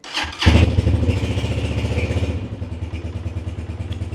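A Honda CG125 Special Edition motorcycle starts up: a brief clattering crank, then the single-cylinder engine catches and settles into a steady, throbbing idle close by.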